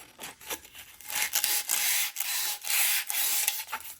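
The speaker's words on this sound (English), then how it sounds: "let's go ahead and sand on the rest. Get some sandpaper. Take your fork." Sandpaper rubbing back and forth over a bicycle fork steerer during a Specialized Tarmac SL8 build, a close, dry rasping in quick repeated strokes with short pauses between them.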